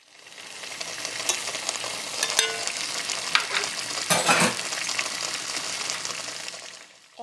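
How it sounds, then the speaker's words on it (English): Celery and onions hit a hot pot roast pan with a steady sizzle and frying crackle, plus brief stirring scrapes and a louder burst of spattering midway, close and continuous with no talk. "Now I'll add in the remaining vegetables, the celery and the onions."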